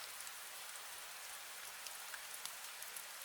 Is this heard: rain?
yes